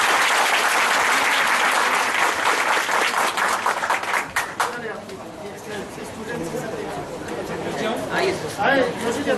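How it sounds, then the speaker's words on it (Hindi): Loud, dense applause from a coaching-institute audience welcomes a guest, then fades after about four seconds into murmuring voices and chatter with a few stray claps. "जोरदार तालियां।"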